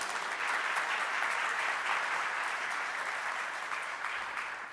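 Steady, dense applause from an audience at a literary conversation event, filling the room evenly for several seconds with no voices over it.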